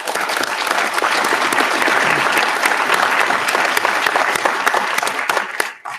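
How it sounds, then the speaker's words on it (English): Conference audience applauding a panel at a cybersecurity event, sustained dense clapping that carries on for several seconds before tapering off at the end. "I hope you'll give our panel a nice round of applause"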